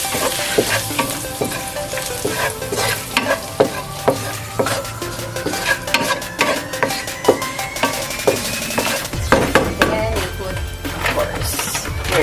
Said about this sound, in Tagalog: Put the turmeric. Then the salt. Just mix it.